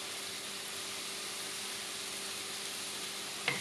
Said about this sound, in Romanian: Punem uleiul la încins într-o tigaie. Când s-a încins, adăugăm ceapa, morcovul și ardeiul.